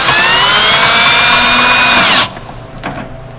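A power drill cranking trailer stabilizers whirs loudly and steadily for about two seconds, then cuts off, leaving a faint clunk and quiet rustle.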